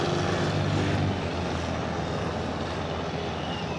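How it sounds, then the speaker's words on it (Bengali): A propeller airplane flies in low to land on a beach in Pattaya, Thailand, its engine drone loud and steady throughout, easing slightly after the first second. "বিচে মনে হয় ল্যান্ড করবে, আমি শিওর না"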